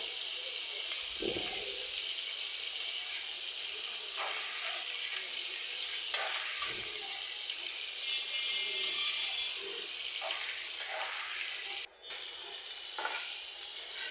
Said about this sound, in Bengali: এক পাশে তো মাছটা ভাজা বসালাম আরেক পাশে ভাজিটাও বসিয়ে দিলাম